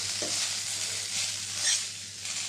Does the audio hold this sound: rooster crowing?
no